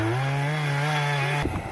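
A gasoline chainsaw cuts firewood close by, with a steady high buzzing engine tone that shifts abruptly near the end as the cut changes, loud and alone.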